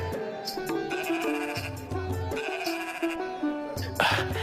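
Sheep bleat repeatedly in quick overlapping calls, several animals crying out one after another close by, loud and wavering, with a brief scuffle near the end.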